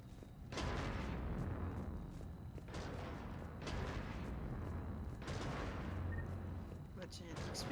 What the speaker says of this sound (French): C'est joli quand même les canons qui tirent.